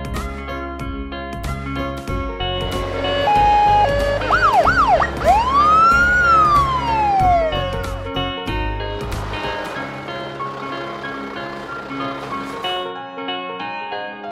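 A loud wailing police utility vehicle siren sweeps up and down, then shifts to a fast yelp, over an engine and background rumble.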